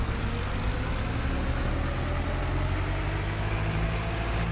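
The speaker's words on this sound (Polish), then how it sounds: "Ale dźwięk silnika piękny" A tractor's low, steady engine rumble drones on without pause, a heavy motor running at a constant idle with no voices.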